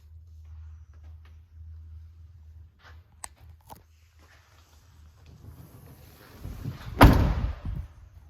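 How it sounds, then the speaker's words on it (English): A sliding door on a 2021 Volkswagen Transporter 150ps 4Motion Kombi van rolls quietly along its track after some soft clicks and handling noises, then slams shut with a loud thud near the end. "Twin sliding doors."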